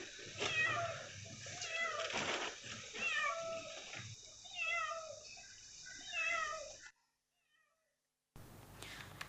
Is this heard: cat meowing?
yes